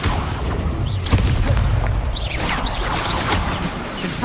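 A Levioso spell effect in Hogwarts Legacy: a loud, booming whoosh with crashing impacts and sweeping magical tones, dense and sustained throughout with no voice.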